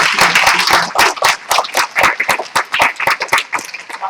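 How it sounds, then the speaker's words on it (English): An audience at a law school event claps for the panelists in a brief, close round of applause, the individual hand claps sharp and distinct before it trails off. "So again, a warm round of applause for our panelists."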